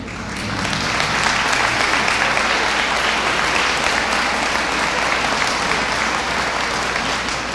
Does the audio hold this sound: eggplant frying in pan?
no